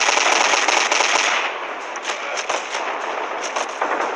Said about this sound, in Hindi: ओह ये मशीन गन